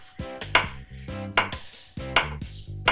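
Vegetables and garlic being diced into small cubes on a board, with sharp, evenly spaced knife strokes landing in quick bursts at close range and no voices.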